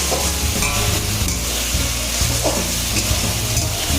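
Spice masala being sautéed in a pan for a jackfruit curry, a steady close sizzle with scraping stirs running the whole time, no talk.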